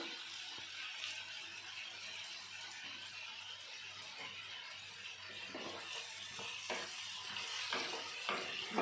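Papaya and potato pieces fry in a pan for a vegetarian curry, giving a steady, continuous sizzle throughout with a few clinks and scrapes of stirring building toward the end; no one speaks.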